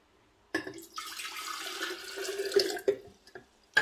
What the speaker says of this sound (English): you just fill it up with filtered water